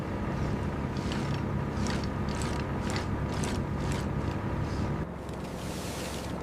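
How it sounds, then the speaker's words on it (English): A capstan on a tuna fishing ship hauls in net line with steady rhythmic ratcheting clanks and creaks, repeating roughly every half second over a constant mechanical drone, with the machinery noise dropping slightly near the end. "Watch the line on the capstan."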